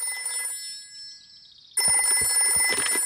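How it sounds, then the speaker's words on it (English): A cartoon telephone rings in a bright electronic trill, then a pause, then rings again more loudly, with no talking. "I'll ring Granny Pig."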